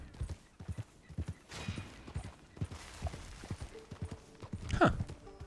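Horse hooves clip-clopping during a ride in the Red Dead Online video game, a steady rhythmic trot close by, with a brief whinny near the end.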